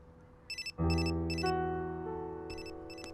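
A mobile phone rings indoors with a loud melodic ringtone sustained over repeated short electronic beeps, close and clear with no talk.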